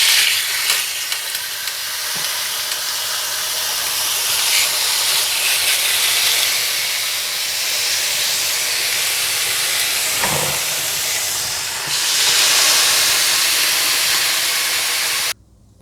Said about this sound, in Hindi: बीफ के पीसीस को दोनों तरफ से ग्रिल कर लीजिएगा